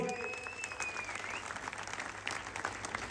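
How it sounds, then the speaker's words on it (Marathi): A wrestling crowd at an open-air kusti ground in Vairag, Maharashtra applauds continuously, a dense, steady wash of clapping from many hands with scattered louder claps and faint voices mixed in. "यांच्यासाठी टाळ्या करा सर्वांनी"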